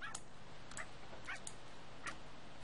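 A pet dog in The Sims 3 gives several short, high yips and whimpers at spaced intervals, fairly faint over a low steady background hum.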